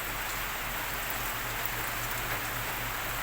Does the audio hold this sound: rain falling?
yes